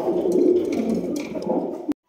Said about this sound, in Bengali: সামনে যেটা ডাকাডাকি করতেছে এটা নর কবুতর